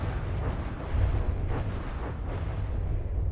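A cannon volley firing in the naval combat game From the Depths, a string of dull heavy booms in quick succession over a constant low rumble.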